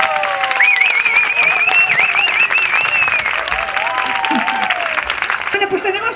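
A crowd at a country concert during Cincomarzada in Zaragoza applauds and cheers for the performer, loud sustained clapping with a voice calling over it and music tones sounding in the mix.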